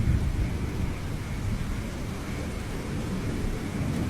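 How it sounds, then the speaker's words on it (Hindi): Heavy rain pours down steadily with deep rolling thunder underneath, a dense continuous roar throughout with no voices. "थोड़ी ही देर में जोरदार बारिश शुरू हो जाती है"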